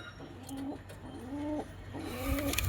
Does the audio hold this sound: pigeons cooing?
yes